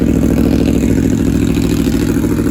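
A warm, remapped 2020 Aprilia Tuono Factory motorcycle runs up close, its engine and exhaust giving a loud, steady, throbbing rumble with no voices.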